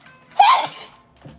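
A single sneeze bursts out in a home kitchen during Thanksgiving cooking, loud and abrupt, then fades to quiet room noise, with a faint stir just after.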